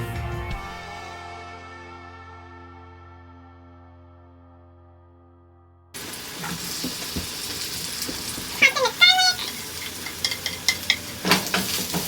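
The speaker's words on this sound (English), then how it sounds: "Toss in the potatoes since those could take a little bit of a while to cook, so that they could start cooking" Potatoes, garlic and chopped onions frying in a home kitchen pan: a fading ringing tone gives way to steady sizzle, with utensil scrapes and clatter from stirring.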